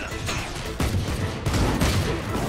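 Judge shotgun blasts in Valorant, a run of loud, close booming shots fired in quick succession over about two and a half seconds, each burst heavy and broadband.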